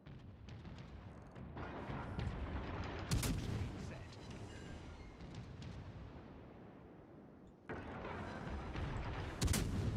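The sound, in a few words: naval gunfire from ships in the video game World of Warships Legends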